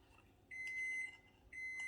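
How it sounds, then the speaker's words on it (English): Two short high electronic beeps from a kitchen oven reaching its preheat temperature, the second following a second after the first, moderately close in a quiet room. "That beeping is just my oven coming up to temperature."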